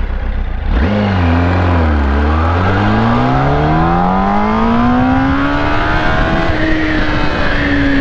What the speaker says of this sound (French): On est reparti pour une accélération